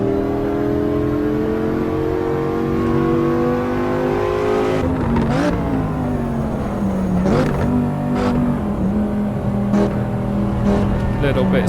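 Porsche 911 GT3 engine lapping the Nordschleife in the racing game Assetto Corsa Evo, a continuous loud, high-revving whine that climbs and drops sharply with repeated gear shifts and braking.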